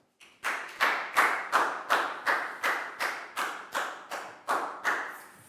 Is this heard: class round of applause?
yes